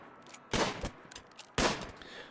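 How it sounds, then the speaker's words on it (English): Two distinct gunshots ring out about a second apart in the video game Rimworld as a colonist hunts animals, each a sharp crack with a short decay over quiet background. "And there you can see Clara is standing there and is shooting the animals."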